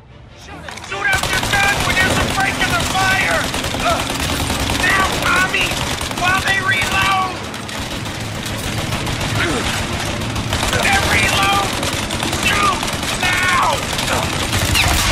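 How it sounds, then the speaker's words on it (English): A turret machine gun fires on the player in the video game Mafia Definitive Edition, with loud, dense bursts of rapid gunfire running almost continuously over the whole stretch, mixed with other game sounds and voices talking over it. "Oh, turretnya. Destroy turret. Nembakin kita itu ya."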